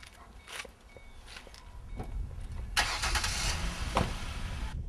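A fast car, rated 0 to 60 in 4.6 seconds, starts up: a low engine rumble builds steadily, with a burst of cranking and revving in the middle, then a sustained close, loud idle to the end, with no talking.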